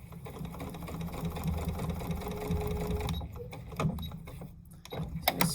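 A sewing machine stitches a straight 90-degree seam on a quilt-as-you-go quilt, running steadily and close for about three seconds before stopping, followed by a few handling clicks and rustles.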